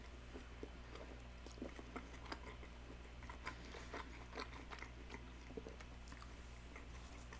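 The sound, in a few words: chewing McDonald's McRib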